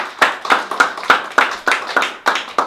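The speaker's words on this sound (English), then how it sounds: "Clap it up." Steady rhythmic hand claps, about ten sharp claps spaced evenly, close and fairly loud with no talking.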